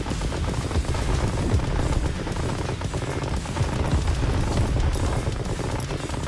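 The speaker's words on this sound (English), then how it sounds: "we started shooting the bunkers" Rapid gunfire from units shooting at bunkers near an enemy base in the real-time strategy game Tempest Rising, a dense, continuous barrage of shots and booms that stays loud and close for the whole stretch.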